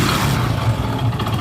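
Hero Honda HF Deluxe motorcycle engine running on a workshop stand after a full rebuild, a steady close, loud low-pitched rumble with no talk over it.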